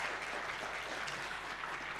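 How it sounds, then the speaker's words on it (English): Applause from a conference audience honouring a keynote speaker, steady and distant, a soft continuous patter of many hands with no talking over it. "can we give Adonia Wilcox a big round of applause as well?"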